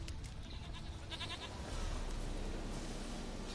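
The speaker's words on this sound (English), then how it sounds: "Here, goat." A goat bleating in the video game The Witcher 3, several short wavering bleats over a rumbling ambient background, moderately close and fairly faint, followed by steadier low noise.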